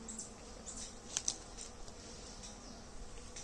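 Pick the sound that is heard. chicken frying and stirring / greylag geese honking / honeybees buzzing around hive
honeybees buzzing around hive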